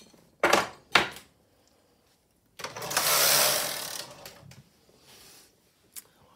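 A Silver Reed SK155 chunky knitting machine as the knitted piece is taken off, two sharp clacks, then a long rattling slide of the carriage and needles, with a final small click.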